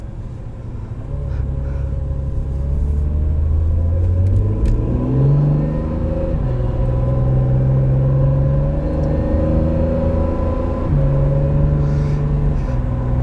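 A 2017 Acura NSX supercar cruises around town, its engine rumbling steadily with smooth rises in pitch as it accelerates through the gears, loud and continuous from inside the car with no talking.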